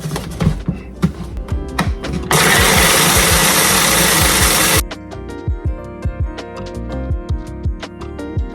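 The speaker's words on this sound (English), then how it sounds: "I'm just going to grind them up just a little bit more in my little processor here" A small food processor grinding stovetop stuffing mix runs as a steady, loud whirring roar for a few seconds, set between bursts of tapping, knocking kitchen sounds, with no talk.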